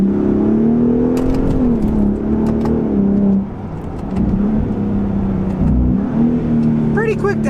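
A 2021 Ford F-150 Raptor with a 10-speed automatic revs hard, its engine note rising and dropping through quick manually selected upshifts and downshifts, heard from inside the cabin with a person talking over it.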